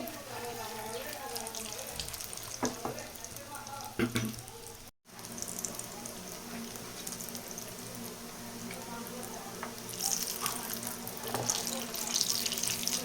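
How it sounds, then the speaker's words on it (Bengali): Potato chops deep-frying in oil over medium heat give a steady, watery crackle and hiss that runs continuously, with a brief drop near the middle. "এখন আমি এগুলিকে তেলে ভেজে নেব"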